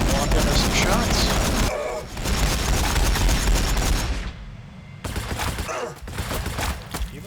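Dense bursts of gunfire crackle through a Warhammer 40,000 battle between Orks and Blood Angels, loud and continuous, with brief lulls and renewed volleys, heard under game sounds.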